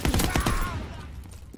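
P08 pistol fired in the Call of Duty WW2 game, a quick close burst of sharp gunshots in the first half second that then rings out and decays.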